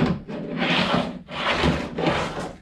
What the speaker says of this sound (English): That's the noise of this thing sliding out against the plastic of the kayak.